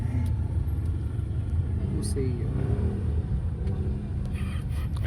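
Road traffic with car engines, a steady low rumble that runs the whole way through beneath people talking.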